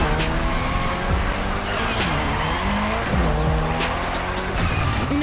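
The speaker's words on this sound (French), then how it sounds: "Voiture, la reine du drift, la Lancer Evo 6." A Mitsubishi Lancer Evo 6 drifting at the Maui airport in a racing video game, engine revving up and down with sustained tire squeal and skidding, loud and continuous without speech.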